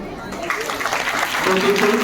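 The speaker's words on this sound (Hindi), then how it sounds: "एक बार जोर से तालियों से उसका स्वागत हो गया" An audience applauds to welcome a speaker, a spread of hand clapping that builds gradually, with some talk or murmuring mixed in beneath the claps.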